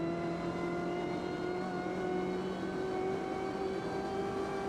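BMW M8 GTE race car in Automobilista 2 at Laguna Seca, a steady engine drone with strong sustained harmonic tones, held at even pitch and moderate level with no voices.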